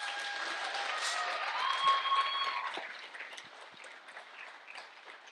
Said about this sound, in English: I know your hands are most probably hurting from clapping, but I think they still deserve it.